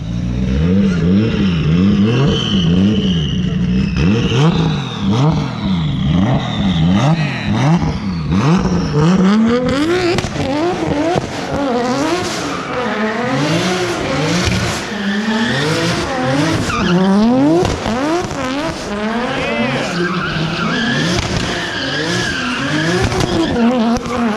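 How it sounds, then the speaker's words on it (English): Race cars, one with an RB30 engine, rev hard and skid with loud, wavering engine pitch and tire squeal, the sound rising and falling continuously as the cars circle nearby. "we got the homies coming through with all their race cars. Jamar here, brought the RB30"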